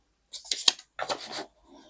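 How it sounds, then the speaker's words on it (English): Scissors snipping through paper or washi tape at a planner desk, a few quick crisp cuts in two short bursts, close and fairly quiet with no talking. "So some scissors."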